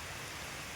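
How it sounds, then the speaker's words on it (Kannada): Steady rain falls over a lotus lake in Coorg, a dense even hiss with no breaks or other sounds for a brief moment. "ಮಳೆ ಜೋರಾಗ್ಬಿಡ್ತು."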